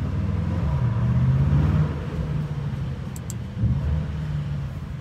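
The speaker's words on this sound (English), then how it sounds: "We will be just giving you a quick drive in the underground garage." A Brabus GT900 Rocket with 900 horsepower driving slowly through an underground garage, a loud low engine rumble that rises and falls with throttle, echoing in the enclosed space.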